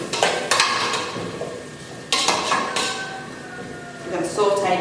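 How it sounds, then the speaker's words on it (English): Pumpkin sautéing in oil in a pan, with utensil clatter, stirring scrapes and brief bursts of sizzle close by, under speech. "I'm going to grab the pumpkin and saute this for a bit in the oil"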